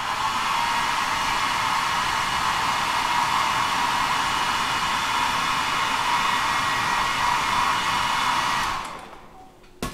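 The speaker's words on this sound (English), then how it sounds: "something that I use all the time, is a hairdryer" A hair dryer blows steadily and loudly up close, drying thin layers of acrylic paint on a custom bluegill fishing lure, running for several seconds before switching off near the end.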